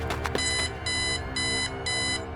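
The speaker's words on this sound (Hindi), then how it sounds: "तभी अचानक अलार्म बजा।" An alarm clock rings in repeated bright electronic bursts, about four evenly spaced pulses, loud and close, alone with no talk.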